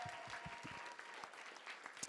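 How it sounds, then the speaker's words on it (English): Audience applause after a school play performance of Twelfth Night, a brief, fairly faint patter of many hands clapping with some low thumps mixed in. "Let's give them one more round of applause."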